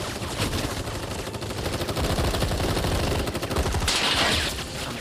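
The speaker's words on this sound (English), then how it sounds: "Whole freaking army unloading on my position." Army gunfire in Final Fantasy VII Rebirth: dense, continuous automatic weapon fire with rapid overlapping shots, loud and close, sustained throughout without a break.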